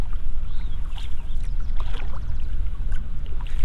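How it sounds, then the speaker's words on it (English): Paddle strokes and water sloshing from a solo canoe moving through Alaskan glacier water with floating ice, close and steady with soft splashes and drips. "Let's paddle up to it"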